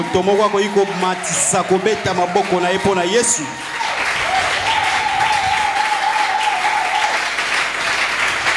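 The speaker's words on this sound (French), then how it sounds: "est-ce que quelqu'un peut augmenter les acclamations pour Jésus?" Church congregation applauding and cheering loudly and steadily, dense clapping throughout with voices rising over it and a held sung or shouted tone partway through.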